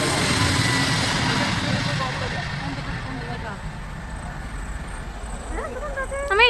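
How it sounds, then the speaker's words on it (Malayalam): A jet airplane taking off at Nedumbassery airport in Kerala, a steady distant engine roar that slowly fades, with people talking close by over it. "ഇപ്പോൾ പറക്കും ഒരു വിമാനം"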